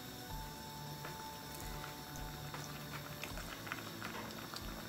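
Millet porridge boils in a pot, giving a soft, faint bubbling and plopping with low thumps and gurgles under a faint steady hiss.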